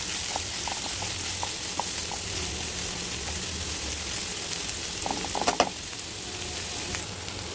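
Peanuts roasting in a pan over a gas flame give a steady, quiet sizzle and crackle, with occasional stirring scrapes and small clicks.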